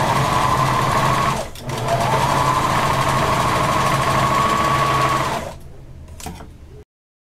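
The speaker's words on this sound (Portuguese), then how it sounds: "Vou lá na máquina e passo uma costura reta prendendo." Sewing machine running a straight seam on a bikini, a loud, close, rapid mechanical stitching buzz with a brief pause, then slowing and stopping near the end.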